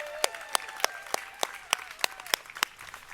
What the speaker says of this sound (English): I want you to give you all a round of applause for being here.